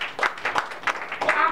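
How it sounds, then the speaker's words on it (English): A church congregation claps for themselves, a short burst of sparse, uneven handclaps from a moderate-sized room, with a few distinct slaps standing out over a light clatter. "You came, clap for yourself"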